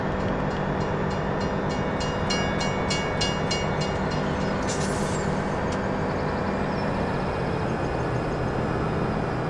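Train in a PS4 farming video game rolling past, giving a steady, dense rumble of wheels and carriages with a run of rhythmic clicks in the middle, loud and continuous throughout.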